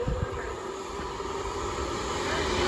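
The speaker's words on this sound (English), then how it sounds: "Avanti West Coast Pendolino service from London Euston to" An Avanti West Coast Pendolino train at Stafford station gives a steady electric hum and hiss that builds slightly over a few seconds, heard from nearby on the platform with no talking.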